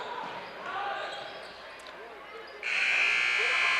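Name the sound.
end of quarter buzzer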